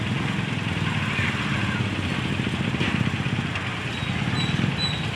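Street traffic outside a church, with a motorcycle engine humming and rumbling steadily up close over a continuous background of road noise.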